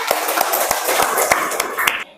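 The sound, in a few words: class applauding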